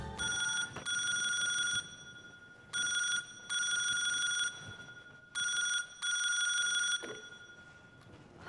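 A landline telephone rings in bursts of a bright electronic trill, loud and close, with short gaps between the rings and no talk over it, in a Hindi crime drama scene.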